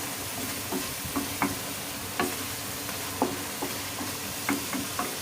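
A spoon gently stirs boiled eggs into a yogurt-based egg masala curry gravy, mixing from the sides so the eggs stay whole: soft scraping taps and clinks recur irregularly over a steady low sizzle, with no talking.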